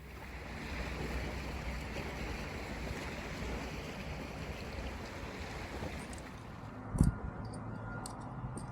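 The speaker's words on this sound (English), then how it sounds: "A little windy today." Steady wind blowing outdoors on an electric bikepacking trip along the Northwoods Route, a constant broad rush with microphone buffeting and a brief knock near the end, no talking.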